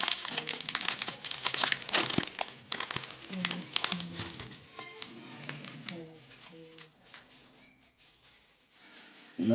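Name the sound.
Pokémon card booster pack being torn open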